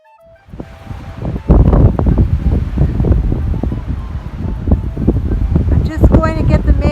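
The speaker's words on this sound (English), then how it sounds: "It's so windy I can hardly take it out here." Strong gusts buffet the microphone in heavy, uneven rumbling bursts, roaring close and loud for several seconds.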